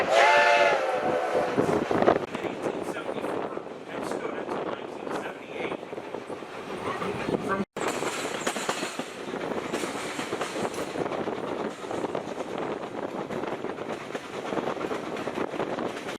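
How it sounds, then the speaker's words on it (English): A 4-8-4 Northern steam locomotive pulls an excursion train through the Pennsylvania countryside, its steady rumble and rolling rail noise continuous throughout, with a whistle near the start. "The train chugged out of the station and rolled along past houses, farms, and fields"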